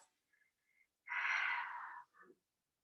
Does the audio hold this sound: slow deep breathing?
yes